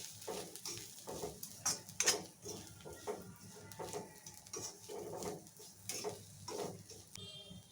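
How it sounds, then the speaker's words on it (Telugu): Ivy gourd pieces stirred in a pan with chili powder, salt and turmeric, faint intermittent scraping and clinking strokes over a soft, steady sizzle. "ఒకసారి కలుపుకుందాం."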